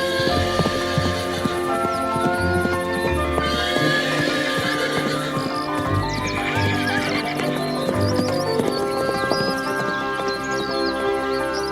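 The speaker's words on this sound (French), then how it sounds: "Nous hennîmes tous deux au moment où l'on nous séparait." Horse whinnying loudly while hooves clip-clop steadily, with repeated neighs over a continuous rhythmic backdrop, no voices present.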